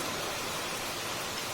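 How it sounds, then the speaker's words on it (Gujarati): Steady rain pours down over a farming village, a dense, even hiss of drops that holds without a break for the whole moment, with no voices over it. "ત્યાં તો વરસાદ ચાલુ થઈ ગયો."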